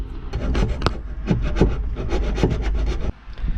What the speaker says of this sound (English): I had to take off the blade of the hacksaw to be able to fit it